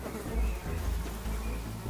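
Flies swarm over a deer carcass, their buzzing rising and falling in overlapping drones close by, some wingbeats swelling louder as insects pass near.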